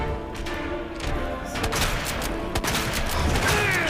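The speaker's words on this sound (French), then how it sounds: "c'est une grenade assourdissante" A flashbang stun grenade goes off in the Resident Evil 2 Remake video game, a dense loud blast with crackling debris and ringing that sustains across the whole moment.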